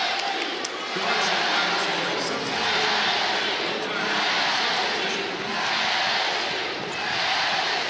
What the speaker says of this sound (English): The LSU crowd getting into it